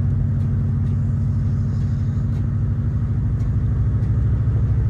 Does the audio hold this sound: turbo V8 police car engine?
yes